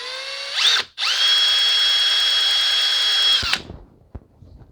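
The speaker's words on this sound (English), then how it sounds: "now that those are drilled" A power drill bores holes for eye hooks to hang a 4 ft shop light. A short rising whir comes first, then a steady, loud, high-pitched spin of about two and a half seconds, cut off abruptly and followed by faint clatter.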